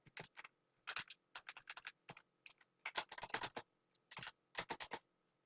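Keystrokes on a computer keyboard while a Shift-plus-6 caret is entered during a Python programming lesson, coming as quick irregular clusters of close, crisp taps with short pauses between bursts, no voice over them.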